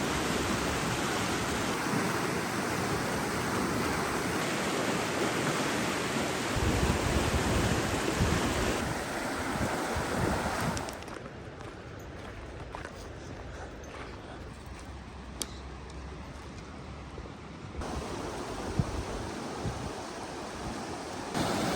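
Rushing water where Vasquez Creek meets the Fraser River, a loud, steady broadband roar like surf, with wind buffeting the microphone and a shift to a quieter, thinner flow midway; no voices.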